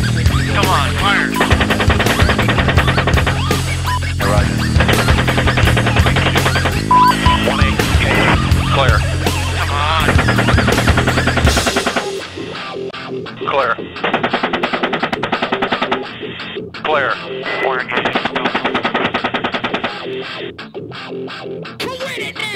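Heavy machine gun fire rattles in rapid bursts during a combat scene involving coalition forces, loud and dense, with voices talking over it and the clash thinning out partway through.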